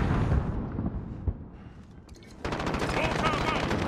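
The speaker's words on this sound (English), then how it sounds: "Yeah, he's shooting." Gunfire in the battle royale game Call of Duty Warzone: dense, rapid shots crackle through a noisy firefight. The shooting thins out midway, then resumes louder and steady near the end.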